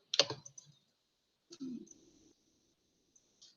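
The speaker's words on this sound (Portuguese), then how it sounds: "só aproveitando para digitar" A few brief keystrokes on a computer keyboard during a financial administration lesson: a cluster of sharp clicks, then a short softer burst after a pause, close and quiet, with no talking.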